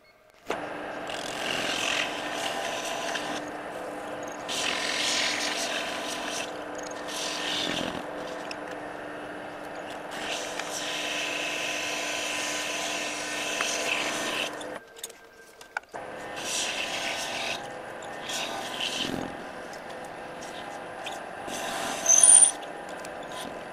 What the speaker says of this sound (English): here we are with our second piece chucked up, and we're just going to go ahead and cut it off to length here.